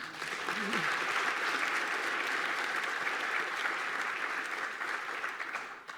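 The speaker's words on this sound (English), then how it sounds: "One more applause before I close." A college convocation crowd claps in a sustained, even burst of applause that carries on at a steady level for several seconds before tapering at the end, with a brief murmur of voices near the start.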